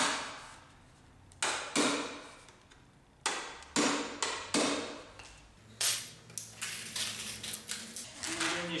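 A hammer tapping screws into a wooden desk base, a series of sharp knocks that are sparse at first and then come in quicker, evenly paced taps, close and clear.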